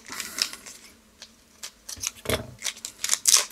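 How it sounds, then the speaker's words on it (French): Small scissors snipping through the packaging of a Magic: The Gathering Innistrad: Midnight Hunt product in a series of crisp, uneven cuts, close up, with a few rustles between them. "Petite paire de ciseaux."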